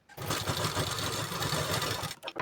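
A sewing machine runs a steady, fast top stitch along the edge of blouse fabric, a close continuous whirring chatter that stops abruptly at the end.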